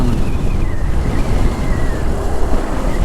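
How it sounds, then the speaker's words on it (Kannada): Strong cold wind roaring loudly and continuously against the microphone on a motorbike trip to Ladakh, heavy low rumbling buffets with a faint whistling tone above. "ಕೋಲ್ಡ್ ವೆದರ್ ಗಾಳಿ ಫುಲ್ ಹೊಡಿತದೆ"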